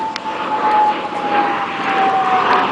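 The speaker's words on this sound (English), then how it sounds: "You need to make sure you have enough power to perform these vertical maneuvers that you see John doing today in the L-29" An L-29 jet flies aerobatic manoeuvres at an airshow in Airdrie, Alberta, its engine a loud, sustained roar with a steady whine running throughout.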